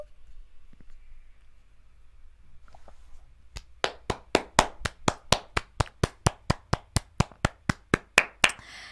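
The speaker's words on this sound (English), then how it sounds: "Have to give a round of applause to Oda." A single person claims steadily in a quick, even rhythm of about twenty sharp claps, close and loud, starting after a few seconds of near silence.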